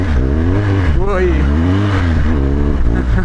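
A BMW R1200GSA motorcycle engine revs and accelerates on an off-road trail, a loud, close, rising and falling drone with a voice talking over it.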